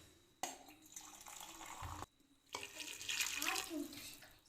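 Water runs and splashes steadily into a cooking pot for beef pulao, with brief pauses and a gurgling rise in the later pour.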